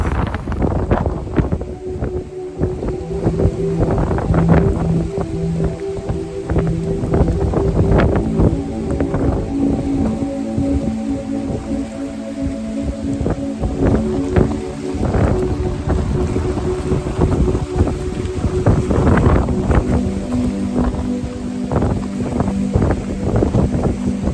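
Strong, fierce wind blowing just outside a sheltering tree line, roaring and buffeting the microphone in continuous loud gusts throughout, with no voices.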